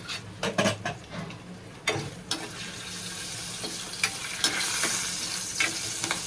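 Whole spices and asafoetida temper in hot oil, a soft continuous sizzle punctuated by scattered crackles and light clinks of a stirring spoon against the pan.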